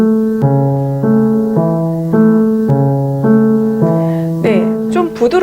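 A piano left hand plays a soft, even Alberti bass accompaniment from a Clementi sonatina (Op. 36 No. 6), with repeating broken-chord patterns that change harmony every half second or so.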